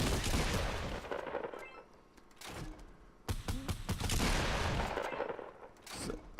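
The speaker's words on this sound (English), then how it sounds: "Then I'm just going to shoot it." Gunfire in the Fortnite video game comes in sharp clusters of rapid shots: one volley, then a lull, then a second dense burst followed by scattered single cracks.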